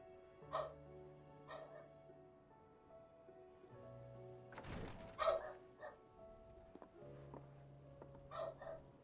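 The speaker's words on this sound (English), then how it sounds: "That dog just ruined the moment." A dog in the Final Fantasy 16 video game gives a few short barks and whimpers at intervals, set against steady in-game music with one louder burst in the middle.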